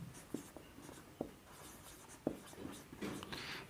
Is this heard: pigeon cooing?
no